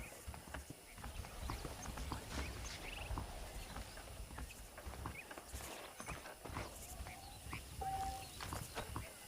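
Horse hooves clip-clop steadily at a walking pace in the video game Red Dead Redemption, close by, with soft ambient noise and a faint chime near the end.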